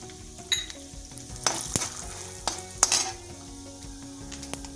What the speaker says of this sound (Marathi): वाळलेली मिरची आणि कडीलिंब थोडंसं मिनिटभर परतून घ्या।